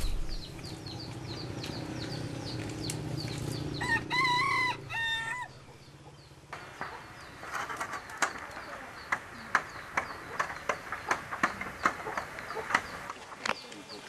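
A rooster crows amid background chatter and farmyard noise, followed by sharp intermittent clicks and knocks against a busy outdoor bustle.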